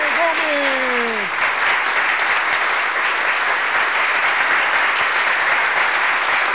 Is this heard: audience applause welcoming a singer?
yes